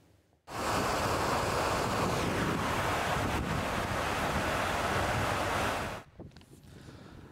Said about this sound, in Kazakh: Қазір су ернеуінен асып, сыртқа төгіле бастаған.